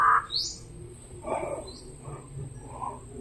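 A crow calling in the open, a few short harsh calls spread over a few seconds against a faint steady background hum.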